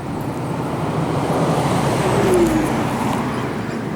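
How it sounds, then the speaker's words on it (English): A car passes on a quiet residential road outside, a steady broad low rumble swelling slightly near the middle and then easing, moderately close, with no talk over it. "Every time I record, there's cars that come by, and we don't even live on a busy road."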